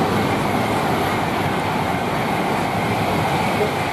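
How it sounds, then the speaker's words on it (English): Class 390 train heading north through Milton Keynes Central station, from London Euston to Edinburgh, giving a steady, loud broadband rumble and rail roar that holds for the whole stretch without a break. "That one is going north, and that one would have been from London Euston to Edinburgh."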